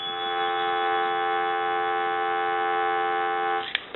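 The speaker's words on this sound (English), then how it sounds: "Give you some dial tone." A payphone converted from a single-slot coin unit gives off a steady, loud, continuous dial tone that holds evenly for nearly four seconds and then ends with a small click.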